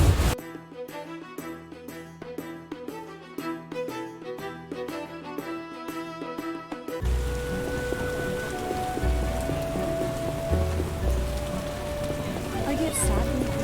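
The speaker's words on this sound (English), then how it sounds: "I get sad when it rains." Rainfall in The Witcher video game, a steady hiss of rain hitting surfaces at a moderate level. For the first half it runs under rhythmic game music, then it continues alone with faint ambient sounds.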